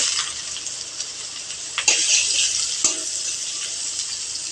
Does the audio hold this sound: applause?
no